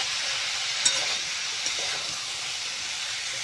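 Bottle gourd sautéing in a pan with turmeric, chilli powder and coriander powder, giving a steady, close sizzling hiss that runs throughout with a couple of faint clicks and no talking.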